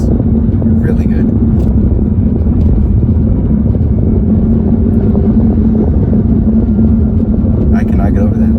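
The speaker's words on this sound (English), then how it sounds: "there's all sorts of like turbo noises and air sounds and swooshes" A BMW 335i N55 fitted with a CTS turbo intake gives a steady low engine rumble with a faint airy whoosh above it, close and loud. Speech is present but carries no words.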